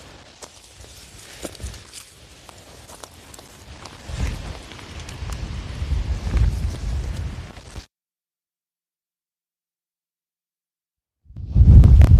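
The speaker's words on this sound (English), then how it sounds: "Just an example of how windy it is out here today." Rough gusts of wind buffet the microphone outdoors on a farm with a deep, rumbling roar that swells, cuts out to silence, then bursts back in.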